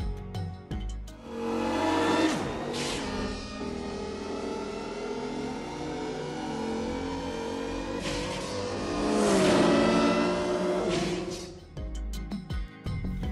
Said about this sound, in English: Consider the roar of the light cycles, the futuristic motorcycles